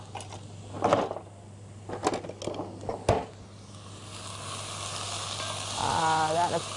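Food sizzling in a hot pan, a steady frying hiss underneath a few clattering knocks and scrapes of utensils early on, moderately close and continuous.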